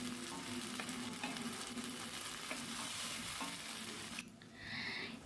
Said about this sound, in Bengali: এবার মশলাটা ভালো করে আমি কষিয়ে নেব।